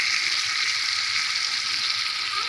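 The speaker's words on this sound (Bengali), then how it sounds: "মাছটা তেলে ভাজা হচ্ছে, এক পাশ হয়ে গেলে উল্টিয়ে আর এক পাশ ভেজে নিতে হবে।" Hilsa fish pieces fry in hot oil in a pan, a loud, steady, dense sizzle that continues without pause and with no talking.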